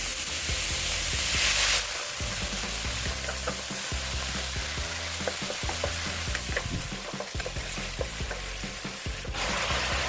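Beef shank with black pepper stir-fries in a wok with a loud, continuous sizzle, and the stirring and scraping make repeated clatters throughout.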